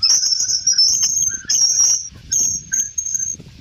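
A shrill high-pitched whistle heard over Discord voice chat comes in repeated bursts, broken by short gaps, with faint crackly background noise.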